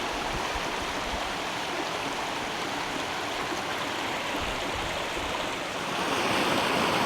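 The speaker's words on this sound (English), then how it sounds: "here's this lovely stream along the roadside" Lovely stream flowing along a roadside near an ATV trail in springtime at Elliot Lake, a steady close rushing and babbling of water that swells slightly louder toward the end.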